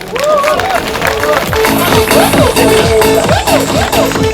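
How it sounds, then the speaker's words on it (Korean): Spectators at an outdoor Muay Thai title match in a special ring clap rhythmically, with a loud tonal voice or music running over the steady clapping throughout. "다시 한번 우리 선수들에게 힘내라고 박수 한번 보내주십시오."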